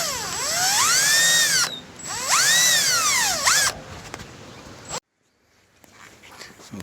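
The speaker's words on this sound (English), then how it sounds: "I've drilled my hole through both plates" A power drill bores a hole through the stacked inner and outer steel plates of a Traeger Ironwood 650 grill, two loud whining bursts with a rising and falling pitch, then a quieter stretch, a sudden stop and near silence.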